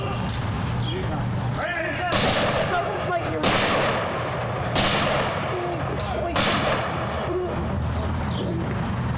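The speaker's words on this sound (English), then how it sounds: "We'll now have our firing squad. Firing squad ready, followed by taps." A firing squad fires rifle volleys at a 2019 Memorial Day ceremony: three sharp, loud cracks spaced about two seconds apart, each with a short echo, over outdoor background noise with faint voices.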